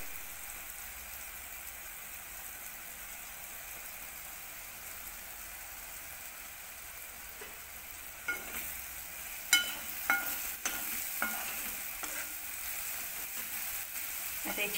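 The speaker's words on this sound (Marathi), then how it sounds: "आता आपल्याला एक मिनिट छान परतू द्यायचं आहे" Colostrum milk bhurji sautéing in a pan with salt, a steady soft sizzle throughout with a few sharper pops and scrapes of stirring near the end.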